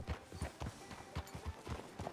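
Horse hooves clip-clop in Red Dead Redemption 2, a quick, regular rhythm of soft thuds at a walking pace, moderately close and fairly quiet, with no talk over them.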